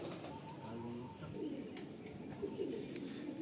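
Pigeons in a pigeon loft coo softly and repeatedly at close range, with light chirps and faint rustling around them, all fairly quiet.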